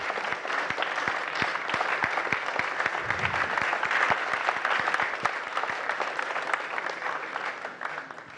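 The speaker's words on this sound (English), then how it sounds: "Please express that in an applause for Multi TV." A large audience at a national science and maths quiz breaks into sustained, dense applause, steady and loud for the whole stretch, with a faint low murmur underneath.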